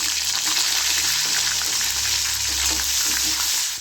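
Tomatoes fry in a pan with a constant loud sizzle, a bright hissing crackle that stays even from start to finish, with faint low clunks underneath.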